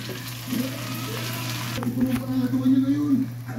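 Pork leg sizzles and crackles as it fries in a non-stick pan, a steady close frying hiss with stirring scrapes, while a voice talks over it.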